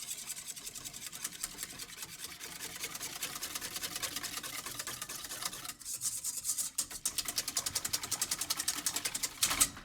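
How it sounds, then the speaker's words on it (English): A whisk beats a vanilla bean rice pudding mixture in a bowl. The strokes are fast, steady and close, a continuous scratchy rhythm that speeds up and gets louder toward the end. "And then I'm going to whisk it."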